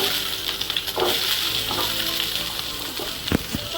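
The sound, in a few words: chopped onion frying in oil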